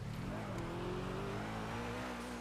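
A car being driven in a video game, a steady engine drone with harmonic lines that hold roughly level and drift slightly in pitch, playing continuously and fairly quietly throughout.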